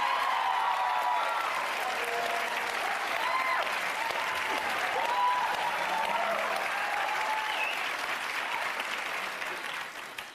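Steady audience applause fills the whole stretch, a dense even clapping from a sizable crowd that fades slightly at the end.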